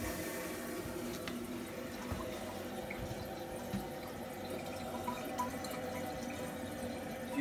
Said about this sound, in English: Go ahead and turn the water back on and see how well it works.